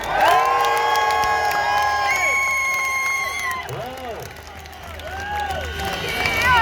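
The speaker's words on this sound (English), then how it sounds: "I'd like you to give a big cheer for Piers Corbyn." Crowd at an outdoor freedom march rally in London cheering and whooping in a loud, sustained roar, with whistles and shouts rising and falling across the whole stretch.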